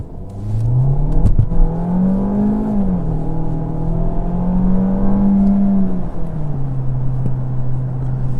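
A DS 9 with a 1.6-litre four-cylinder engine revs hard at full throttle, a loud droning engine note that climbs, holds and falls, heard from inside the car without talk.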